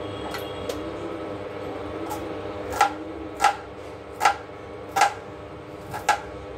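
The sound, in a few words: chopping onions with a knife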